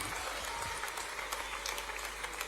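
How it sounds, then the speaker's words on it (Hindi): An audience at a Bhopal sports awards ceremony applauds to welcome Chief Minister Shivraj Singh Chouhan, a dense, steady burst of clapping from a large crowd, somewhat distant and even throughout. "जोरदार तालियों से आइए स्वागत करें माननीय मुख्यमंत्री श्री शिवराज सिंह चौहान जी का।"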